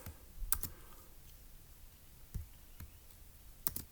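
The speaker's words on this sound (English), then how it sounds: "So let's go ahead and type that up." A computer keyboard is typed on in a few sparse, faint clicks and short bursts of keystrokes, close by but quiet, with no voice.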